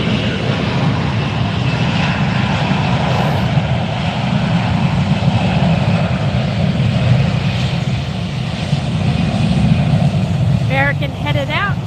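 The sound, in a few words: Delta Airbus A321 airliner taxiing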